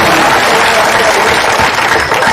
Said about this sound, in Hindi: एक बार हाथ खाकर जोरदार ताली के साथ उसका अभिनंदन